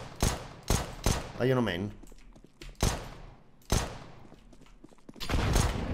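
Several sharp video game gunshots ring out in bursts, some close together, with a brief electronic chirp and someone speaking between shots.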